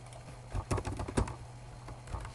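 Rapid, uneven keystrokes clatter on a computer keyboard while someone writes ABAP code for an SAP CRM Web UI component, the clicks close and moderately quiet over a low steady hum.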